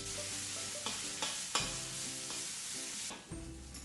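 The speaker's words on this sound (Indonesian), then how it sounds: "panaskan minyak di wajan, tumis bawang putih sampai harum dan berubah warna" Garlic sautéing in hot oil in a wok, a steady close sizzle with a spatula stirring and scraping against the pan in several distinct strokes.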